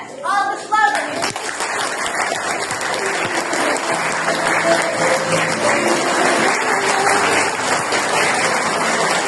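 Children clap for their teachers at a school gathering, a short burst of voices at the start giving way to sustained, steady applause from a large group that fills the room.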